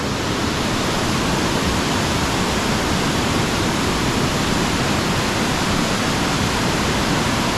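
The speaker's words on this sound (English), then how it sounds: "lovely waterfall here, and I'm just glad that I came when there'd been so much rain" Amphitheatre Falls near Noojee, Victoria, swollen after heavy rain, roaring as a loud, constant broadband rush of falling water that never lets up, heard close with no voices.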